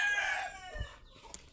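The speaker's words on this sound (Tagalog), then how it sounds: "manok oh." A chicken crows and clucks somewhere outdoors, one short, fairly faint call that quickly fades.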